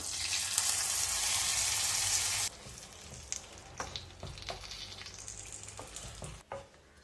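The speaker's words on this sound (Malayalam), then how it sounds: "നമുക്ക് കറിയിലേക്ക് നമ്മുടെ കടുക് വറവൽ ചേർത്ത് കൊടുക്കാം." Mustard seed tempering hits a pot of okra milk curry with a loud, bright sizzle for about two seconds, then drops to quieter bubbling with scattered clinks and taps of a utensil.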